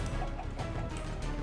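A chicken in Minecraft gives a short burst of clucking, close and clear over a dense background.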